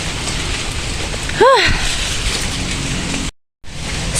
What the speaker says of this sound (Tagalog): Saktong-sakto po, umuulan.